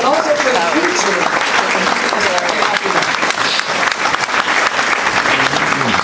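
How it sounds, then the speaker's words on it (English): A theater audience loudly applauds young performers at a stage event, with sustained, dense clapping filling the whole stretch and voices talking faintly underneath. "let's give them a round of applause"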